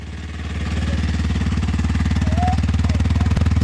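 Kawasaki KLX 230 fuel-injected motorcycle with stock exhaust idling close by, a loud steady rapid thumping putter that settles in after a short rise and holds an even beat throughout.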